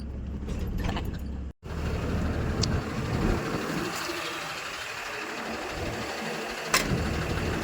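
An old vehicle engine runs roughly on a bumpy road, a steady mid-pitched drone with jerks and rattles, one brief sharp dropout and occasional knocks, no talk over it.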